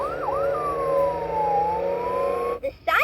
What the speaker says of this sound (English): The siren is used to tell others we're on an important task.